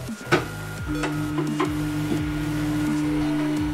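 A Creality Ender-3 V3 3D printer runs its automatic vibration calibration, giving off a steady mechanical hum with sustained resonant tones, sliding pitch sweeps and a few light clicks, close up and with no speech.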